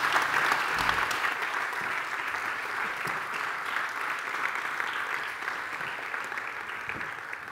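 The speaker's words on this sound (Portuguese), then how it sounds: "Uma salva de palmas para os dois" Audience applause fills a public presentation session for a national youth plan, a steady, dense wash of clapping from a seated crowd that holds evenly throughout without any talk over it.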